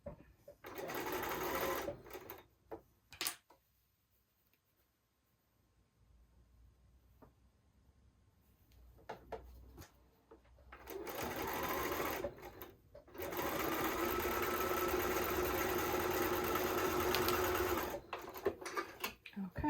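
A sewing machine runs in bursts as a quilt block is stitched, fast rattling whirs separated by pauses in which someone talks quietly; the longest stretch of stitching comes near the end.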